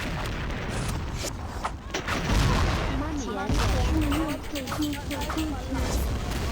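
Grenade explosions and gunfire from the shooter game XSHOT rumble in dense, booming bursts, with a player talking excitedly over the continuous chaotic blasts.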